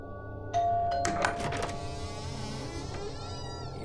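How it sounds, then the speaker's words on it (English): In a horror film trailer, a doorbell chimes once, clear and bright, and a short spray of ringing tones follows. The tones fade into a dark, humming ambient drone. "it all started with the sound of a doorbell."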